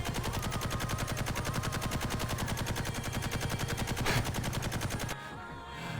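Laser-firing robots shooting in the VRChat world Tensei City Lockdown, a rapid regular stream of video game gunfire that runs steady for about five seconds and then cuts off.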